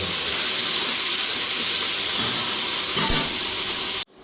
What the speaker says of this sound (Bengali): এবার আলুটাকে আগে ভেজে নেব